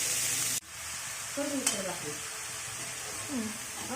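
Chopped onions sizzle in a pan, browning for a bombil bhaji; a steady frying hiss runs throughout, broken by a sharp clatter early on and a few brief tonal squeaks.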